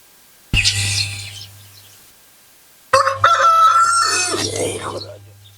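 Chickens and a rooster crow and cluck in two loud bursts separated by a short silent gap, the second burst longer and busier with overlapping calls.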